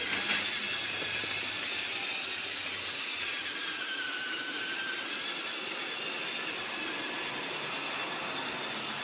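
A model Flying Scotsman 4472 tribute locomotive pulling a pair of teak coaches runs along its track, giving a steady, close, hissing whir that holds level throughout.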